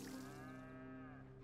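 A cow lows steadily during milking in Red Dead Redemption 2, a single sustained, tonal moo that holds for over a second, quiet and alone.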